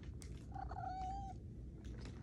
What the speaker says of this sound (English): oh, my cat is here.